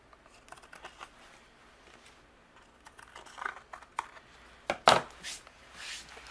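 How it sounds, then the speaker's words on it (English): Scissors snip away an overhanging watercolor paper panel on a handmade card, a few quiet close cuts building to a sharper cluster of snips near the end, faint and alone. "I'm going to use my scissors, and we're just going to trim that away"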